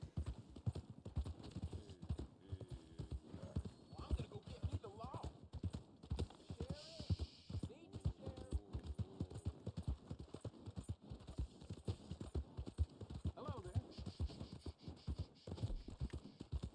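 Horse hooves clip-clop steadily in the video game Red Dead Online, a continuous rhythmic patter of close, moderate hoofbeats running the whole stretch, with a brief whinny and speech-like sounds in places.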